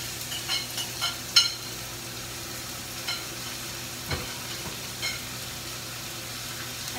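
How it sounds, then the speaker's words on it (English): Sausage frying in a pan alongside onions, a soft, even sizzle with a few faint clinks and scrapes of a utensil early on, quiet and steady without talk. "I'll add the sausage to the pan, and we will get this cooked while the onions are cooking"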